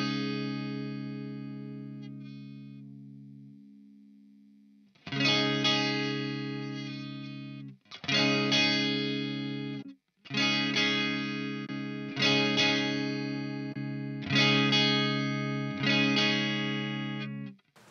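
Electric guitar played through a Marshall Studio Classic SC20 amplifier (JCM 800 style): a sustained, fading chord, then a series of ringing, slightly driven chord strums, close and clear with no talking.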